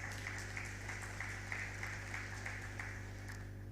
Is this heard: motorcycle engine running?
no